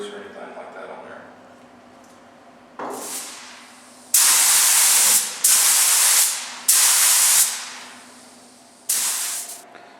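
Spray gun laying PPG DP50 sealer onto a metal mailbox after wax and grease remover prep, heard as five loud, close bursts of broad airy hiss of a second or so each, separated by short pauses, over faint room noise.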